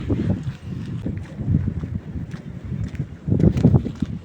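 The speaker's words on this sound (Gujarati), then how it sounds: "બહુ વાવાઝોડું" Strong wind roars and buffets the microphone in uneven gusts, a heavy low rumble that swells and eases throughout.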